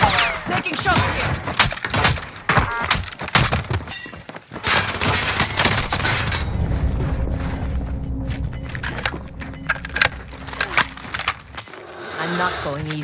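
Rapid bursts of Call of Duty gunfire crackle through most of the stretch, with booming shots and automatic fire layered over a dense game soundscape and a voice talking underneath.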